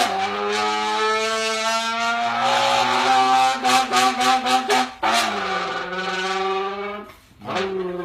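A sports car engine, loud and close, climbs steadily in pitch through a hard pull, then gives a quick run of choppy bursts as it shifts down into second gear, followed by another rise and a brief dip.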